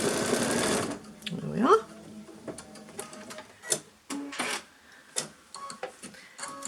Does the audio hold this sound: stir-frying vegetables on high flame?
no